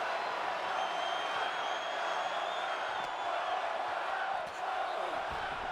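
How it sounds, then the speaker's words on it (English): A wrestling crowd at an IPW event roars in a dense, sustained wash of cheering, with faint shouts rising through the steady noise. "The crowd cheering for one more."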